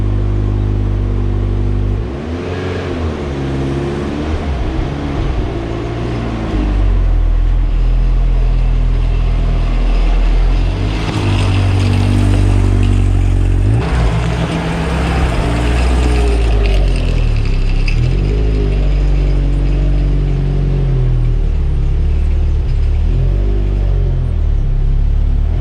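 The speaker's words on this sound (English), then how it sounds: "started the car, and with the new exhaust it sounds quite good" MG TF sports car idling and revving through a new exhaust, a steady deep rumble that swells in throttle blips around the middle, loud and close with no talking.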